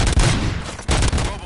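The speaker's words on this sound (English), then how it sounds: "Gunshots? What's going on?" Rapid bursts of gunfire from a fight in the Robocop Rogue City video game, loud and dense, with two heavy volleys separated by a short dip.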